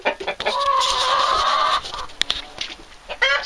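Chickens cluck close by while a rooster lets out a long drawn call, with scattered clucks and bird chatter around it.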